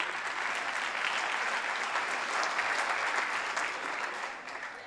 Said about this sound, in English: can we give everybody a big round of applause?